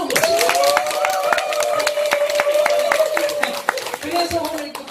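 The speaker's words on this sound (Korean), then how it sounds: "박수 좀 주세요" Audience applause in a Korean temple hall, with clapping heard under a sustained spoken or chanted voice that runs through most of the clip.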